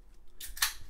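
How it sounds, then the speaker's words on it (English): Scissors cut open a 2020 football card pack. The snip is a short, crisp, close burst with a faint slice before it, heard alone with no talking. "The scissors."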